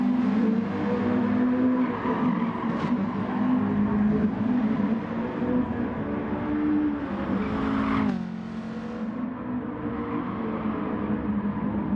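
Racing car engine during a lap in a racing video game, a steady loud whining drone that holds pitch, dips briefly as the car shifts or brakes around the eight-second mark, then resumes at a lower tone.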